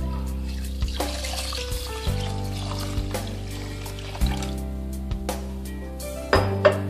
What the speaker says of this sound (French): Ensuite je mets de l'eau à hauteur.